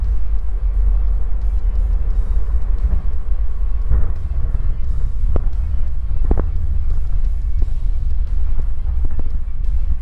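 A light aeroplane touches down and rolls along a grass strip in a garden, a steady loud low engine rumble with wind buffeting and a few brief knocks from the wheels on rough ground.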